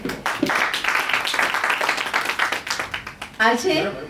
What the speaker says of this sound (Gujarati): તો આપ સૌ સંગીત રસિકો માટે તાળીઓ થઈ જાય.